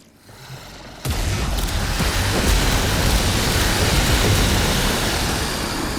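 Heavy, booming Bassocyst gunfire in Warframe, a sustained dense roar of overlapping blasts that kicks in after a second of quieter rumble and stays loud to the end.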